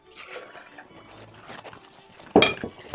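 Spring water poured into a cup, a brief trickle and splash rising to a louder gush near the end, heard on its own with no talking.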